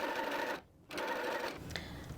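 Domestic sewing machine stitching quilt fabric pieces held with clips, a close steady motor whir with rapid needle chatter, briefly pausing then resuming, no talk.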